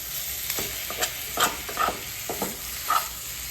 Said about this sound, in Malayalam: മിക്സ് നന്നായി മിക്സ് ചെയ്യാം